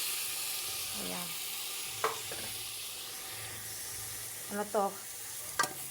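Vegetables for Filipino ginataang kalabasa frying in a pan, a steady soft sizzle throughout with a few brief stirring scrapes, while a voice speaks quietly now and then.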